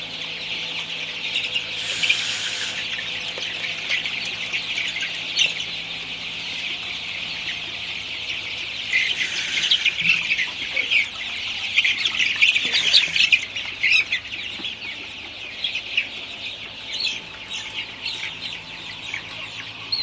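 Sonali chickens crowd a poultry shed, clucking and squawking in a dense, continuous chorus at close range, with sharper calls jumping out now and then and no voices.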